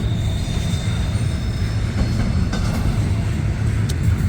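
A Norfolk Southern intermodal freight train rolls through Wilmerding, Pennsylvania, close and loud, with a steady heavy rumble, wheel squeal and clickety-clack throughout and no voices.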